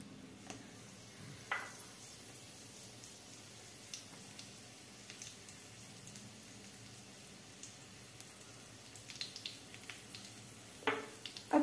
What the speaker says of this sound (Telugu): నూనె బాగా కాగింది కాబట్టి ఎండుమిరకాయలు వేస్తున్నాను.